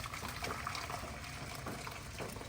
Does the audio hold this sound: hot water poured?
yes